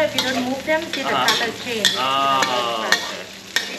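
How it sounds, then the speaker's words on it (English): Food in a frying wok sizzles under a steady hiss while a spatula scrapes and knocks against the metal in regular strokes, with people talking over it throughout. "When you stir, you make sure you stir everything."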